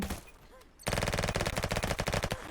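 Venge.io gunfire, a brief quieter stretch with a shot or two, then a loud, rapid automatic burst of closely spaced shots that continues to the end.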